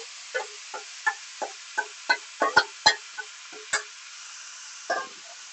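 Marinated meat is turned in a kadai over a high flame, giving a string of sharp scraping and stirring strokes on the pan over a faint steady sizzle, close up with no voices.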